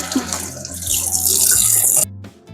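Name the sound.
washing hands under a running tap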